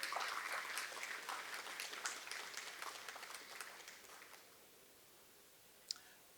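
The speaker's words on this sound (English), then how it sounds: "I think that deserves an extra round of applause." Quiet audience applause at a farming yield awards ceremony, a brief scatter of clapping that thins out and stops after about four seconds, followed by near silence and a single sharp click.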